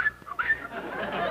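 A voice imitates a whistling tea kettle, producing a short, high sustained whistle that rises, breaks off, and returns in brief bursts, fairly close and alone.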